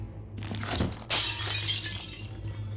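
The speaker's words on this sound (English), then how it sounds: "You rear back and strike the mirror with the hammer. The glass falls away from the frame" A magic mirror's glass shatters under a hammer blow in the video game Shadowgate (2014): a sudden loud crash with a bright, spreading spray of breaking glass that rings on over a low steady hum, after a softer earlier impact.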